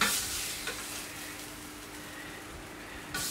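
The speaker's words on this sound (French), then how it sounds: "Et nous allons cuire notre foie gras." Foie gras searing on a hot plancha with figs gives a continuous close hiss and sizzle, with a few brief stirring scrapes at the start and end.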